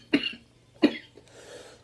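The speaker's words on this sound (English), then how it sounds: "Here I was thinking I wasn't gonna cough." Two sharp, close coughs in quick succession, followed by a short raspy exhale.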